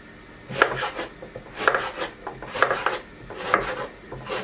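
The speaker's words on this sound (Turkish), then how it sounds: "Şimdi hızlı bir şekilde bütün malzemelerimi doğrayacağım." Knife strokes chop vegetables on a cutting board in four short clustered bursts, close and crisp, each a quick flurry of cuts with brief pauses between.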